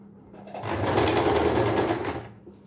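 Sewing machine stitching the sleeves of a night dress, one short burst of close, steady mechanical whirring that starts and stops cleanly in a quiet room.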